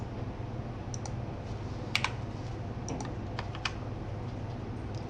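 Computer keyboard being typed on with a few scattered clicks and key presses, including a Ctrl+A shortcut, close up and fairly quiet over a steady background hum.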